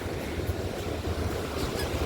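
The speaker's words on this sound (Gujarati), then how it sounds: "જો મોજું આવે કેવા મોજા મારે છે" Sea waves wash onto the shore at Madhavpur beach as a constant rushing roar of surf mixed with wind buffeting the microphone, steady throughout with no voices.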